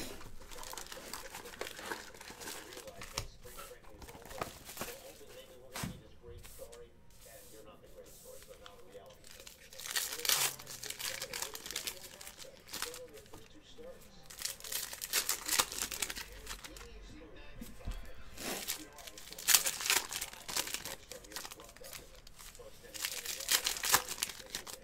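Foil wrapper of a 2019 Panini Stars & Stripes baseball card box crinkling and tearing open, close and busy in bursts, with pack rustling throughout.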